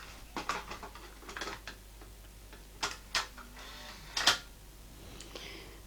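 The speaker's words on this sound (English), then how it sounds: "I shall put a tape in the machine." A cassette tape is loaded into a Sony TC-TX101 deck, a string of close, sharp plastic clicks and clacks as the tape seats and the mechanism engages, with quiet gaps between the clicks.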